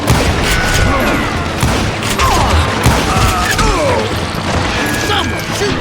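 Shots ring out in a frontier shootout in the video game Call of Juarez: Gunslinger, dense dense fire and crashes under continuous loud game noise, with voices talking over the action.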